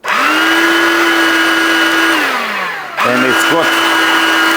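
A Ryobi 18V ONE+ hand vacuum with its motorized brush head whirs loudly up close, a steady high whine that sags and winds down, then restarts with a brief dip; a voice speaks briefly.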